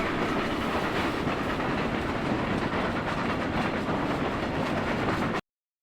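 A steady, close rumble of the orphan train rolling along its track in Toy Story 3: The Video Game, with continuous clattering wheel noise at an even loudness for about five seconds before it cuts off abruptly. No one talks.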